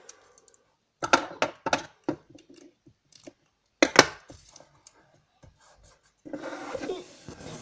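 Adhesive tape strips being pulled and pressed down onto a protractor case: scattered sharp clicks and crackles, a few louder tearing rips, then a longer rustling stretch at the end.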